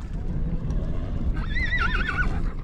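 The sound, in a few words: horse neighing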